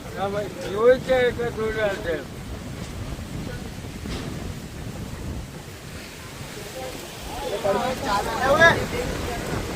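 Strong wind from a cyclone storm with rain roars steadily into the microphone as a heavy, continuous rush. Voices speak near the start and again near the end.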